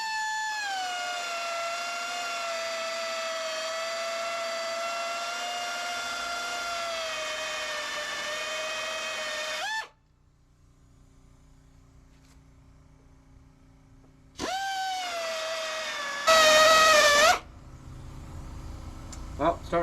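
A sanding tool grinds into spot welds on a truck panel, a loud steady whine that holds for about ten seconds, pauses to low background, then starts up again with a harsher, louder burst near the end.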